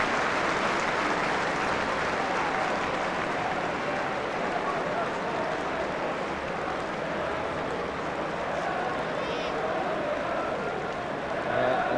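Distant, continuous applause rolls around a stadium at a 1997 Scottish Premier Division football match between Heart of Midlothian and Dundee United, a dense, even wash of clapping from the whole crowd with no break.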